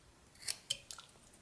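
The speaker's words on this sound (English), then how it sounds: "Knife in the wood." A knife blade cuts notches into a small wood carving of Santa. Three or four quiet, sharp slicing scrapes are spaced across a short, otherwise hushed moment, close to the microphone.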